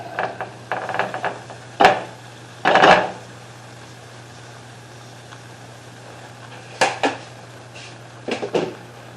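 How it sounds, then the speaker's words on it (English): Metal pot and utensil clatters come in scattered bursts as drained noodles are poured back into a pot, a few sharp knocks and scrapes with quiet pauses between them, close by. "Just going to pour my noodles back in."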